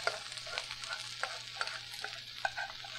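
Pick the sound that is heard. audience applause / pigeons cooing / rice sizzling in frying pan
rice sizzling in frying pan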